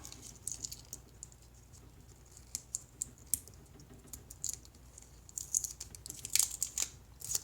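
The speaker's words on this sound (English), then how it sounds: "We have just unwound some 35mm film back into the canister." 35mm film being rewound into its canister on a Holga camera, giving faint, close, irregular clicking and light ratcheting ticks against a quiet background.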